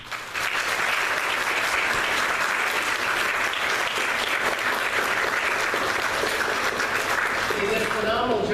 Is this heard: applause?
yes